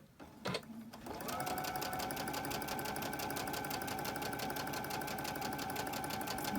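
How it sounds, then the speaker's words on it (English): Sewing machine chain stitching quilt block pieces for a Christmas tree quilt, starting after a brief soft handling sound and then running in a steady, fast, continuous hum close by with no talking. "I'm going to chain stitch these"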